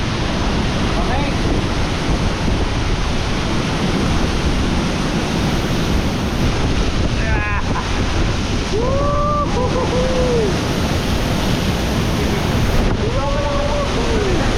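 Powerful rushing water roars steadily inside a cave at Pagsanjan Falls, a dense, unbroken wash filling the whole clip, with a few faint voices and calls surfacing over the torrent.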